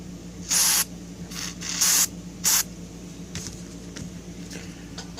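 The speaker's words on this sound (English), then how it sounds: "I'll just take this pipe cleaner, spray it with a little bit of deoxit D5." Deoxit D5 contact cleaner is sprayed onto a pipe cleaner in three short hissing bursts, the second and third close together, followed by faint handling noises.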